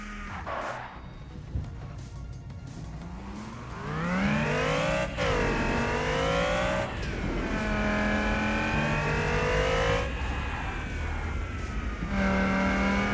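A race car in the Wilder World street racing game, Lunar Lane course, revs hard through rising and falling engine sweeps, with loud sustained acceleration and gear changes over thirteen seconds, no talk.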